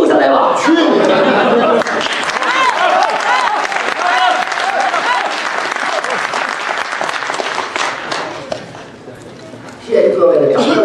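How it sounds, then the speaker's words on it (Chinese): An audience at a Beijing crosstalk show applauds loudly for several seconds, dense sustained clapping mixed with some laughter and chatter, fading toward the end before a burst of voices returns. "谢谢各位的掌声鼓励"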